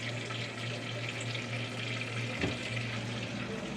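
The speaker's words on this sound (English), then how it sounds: "Meanwhile, I got oil and butter right there in the pan." Oil and butter sizzle in a frying pan, a steady close hiss with a low hum underneath and a brief clatter midway.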